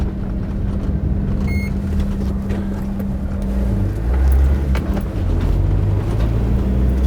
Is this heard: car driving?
yes